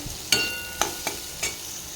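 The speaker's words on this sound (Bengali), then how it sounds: "উচ্ছেটাকে আগে দিয়ে আমি ভালোভাবে একটু নেড়ে নেব" Bitter gourd stir-fried in a pan, a low background sizzle broken by four sharp metallic spatula scrapes and taps in quick succession, with no talking.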